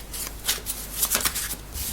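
Tarot cards shuffled by hand for a reading: a brief run of quick papery riffles and flicks, close and fairly soft, with no talk.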